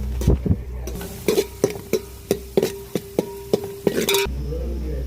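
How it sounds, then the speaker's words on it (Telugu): Masala being fried in oil while a spoon strikes the pan in a quick regular series of about a dozen knocks over a faint sizzle, close and loud. "మసాలా కూడా ఇది కూడా పచ్చి వాసన పోయేంత వరకు బాగా ఫ్రై చేసేసి"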